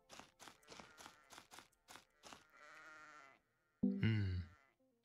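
Sheep in Lila's Sky Ark bleat in a quick string of short, clear calls. After a brief pause, one louder, longer bleat follows. The sound is clean and close with nothing else behind it.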